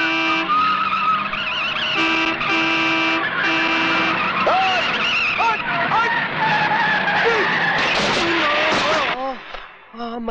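Car horns honk and tyres screech in a Hindi film street scene on a highway, loud and busy, with several blasts and skids overlapping under shouting voices before cutting off near the end.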